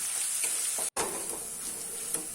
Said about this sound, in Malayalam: അപ്പോൾ ഇത് രണ്ടും കൂടെ ചേർത്ത് കൊടുത്തിട്ട് നമുക്ക് നന്നായിട്ടൊന്ന് മൂപ്പിച്ചെടുക്കാം.